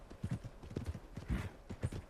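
Horse hooves clip-clopping at a walk in the Red Dead Redemption 2 video game, a steady moderately close rhythm of soft thuds with no talk over it.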